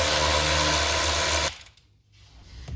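A power tool spins steadily while tightening 7 mm bolts during removal and reinstallation of a Corvette C8 dashboard, a loud continuous whir for about one and a half seconds, then stopping into quiet shop noise.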